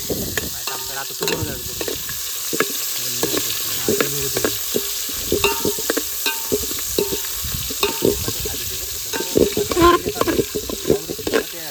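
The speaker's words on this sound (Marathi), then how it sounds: "त्याच्यामध्ये आपण कांदा फ्राय करणार आहे" Onions frying in ghee made from mutton fat at an outdoor farm cookout, a steady close sizzle broken by repeated stirring scrapes, with faint background voices now and then.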